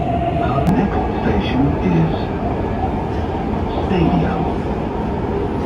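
A crowded Dubai Metro train rumbles steadily along with continuous low wheel and track noise, close and loud throughout, with faint murmuring in the carriage.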